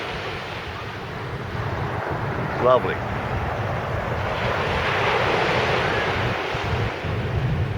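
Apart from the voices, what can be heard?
waves and wind on Gorleston Beach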